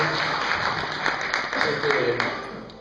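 Audience applause for the speaker's wife and a companion at a workshop talk, a steady dense patter of many hands clapping at moderate distance, with faint murmur mixed in.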